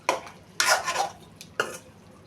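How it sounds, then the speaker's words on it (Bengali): A utensil scrapes and stirs spices with a little water in a pan, giving three distinct scraping, clattering strokes with soft sizzling between them, close and alone without talk. "নেড়ে ছেড়ে আর একটু কষিয়ে নিব"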